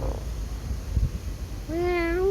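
A wild stray cat gives one clear, rising meow near the end of the clip, close and fairly loud over a quiet outdoor background, with no talking.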